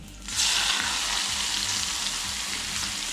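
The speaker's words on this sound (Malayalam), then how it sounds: "സവോളയും കൂടെ നമുക്ക് വറുത്തെടുക്കാം." Sliced onions for chicken biryani drop into hot oil and at once set off a loud, dense, continuous sizzle that holds steady at close range.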